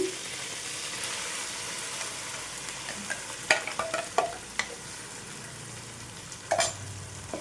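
A soft, steady sizzle of ground masala paste frying in a pan, with scattered scraping and clinks of a spoon stirring now and then.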